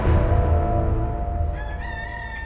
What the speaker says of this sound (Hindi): ये मुर्गे ने दे दी है आवाज